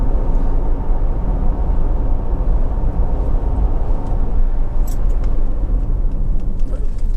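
A Honda CR-V 2.0 i-VTEC EX 4x4 five-door accelerates along a road, giving a loud, steady cabin rumble of engine and road noise with no break.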